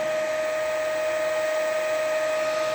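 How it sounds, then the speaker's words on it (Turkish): An electric water pump motor runs flat out, giving a steady, unbroken whine with a strong constant tone and a smooth hum beneath it, close by and without talk. "Ve motorumuzla son gaz hızlı bir şekilde dönmeye devam ediyor"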